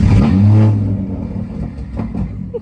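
A BMW M240i with a modified exhaust fires up: a sharp, loud start-up rev that swells briefly, then drops back to a quieter, uneven rumble, close by and with no one speaking.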